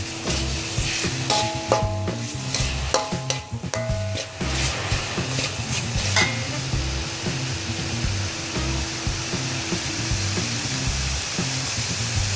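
Frog pieces fry in a pan for a Khmer fried hot frog dish, with a steady sizzle and scraping, clattering stirring near and fairly quiet throughout.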